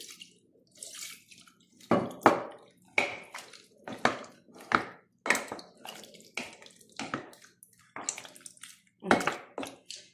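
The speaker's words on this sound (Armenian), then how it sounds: "մի քիչ լցնեմ ջուր," Water is poured into a cooking pot in a series of short, separate splashing bursts, about a dozen close splashes and trickles with brief pauses in between and no talking.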